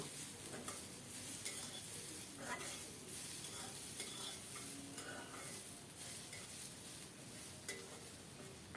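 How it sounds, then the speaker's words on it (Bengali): Fried beans, green chilies and garlic are stirred in a pan, a steady sizzling hiss with repeated scraping and stirring strokes, close and quiet. "এবার ভেজে রাখা শিম কাঁচামরিচ রসুন এসব দিয়ে দেব আবারও সব মিলিয়ে অল্প কিছুক্ষণ ভেজে নেব"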